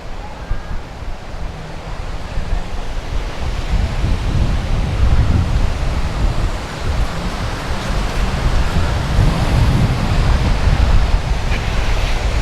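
Sea waves rolling onto Jomtien Beach in Pattaya, Thailand, a loud, continuous rumbling wash of surf with swelling low surges and wind noise, no voices present.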